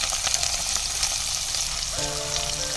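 Mustard seeds spluttering and crackling in hot oil in a pan, a steady dense sizzle with fine popping that runs the whole time, close and fairly loud, with no talk.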